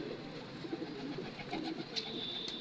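A pigeon nearby gives soft, low cooing calls against quiet background ambience, with a faint higher chirp near the end.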